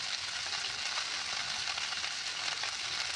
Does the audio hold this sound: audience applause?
no